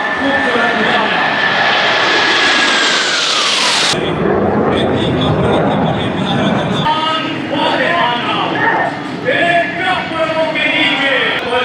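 Aircraft roar loudly and continuously over a military parade on Pakistan Day, with a jet-like whine sweeping past before a dense, rumbling engine wash takes over.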